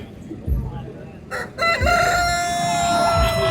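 A fancy frillback rooster at a busy horse fair in Muktsar, Punjab, gives a loud, close, drawn-out crow after a couple of short clucks, with fair crowd noise behind it.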